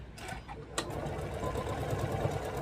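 A sewing machine stitches a pinned seam on a quilted fabric ornament, running in a quick steady whir after a couple of short clicks and starts, close and moderately loud.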